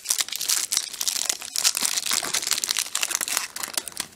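A plastic-wrapped Match Attax Champions League 2016-17 football card pack is torn open, producing dense, close crinkling and crackling of plastic wrap in quick irregular bursts throughout.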